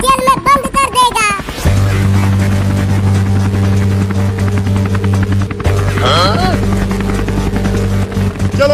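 A loud, steady helicopter engine drone with a deep rotor hum runs throughout, while voices speak and call out over it.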